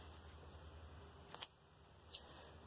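Scissors trim coverall fabric for a Halloween 2 cosplay costume, giving two sharp, close snips about a second apart against a quiet background.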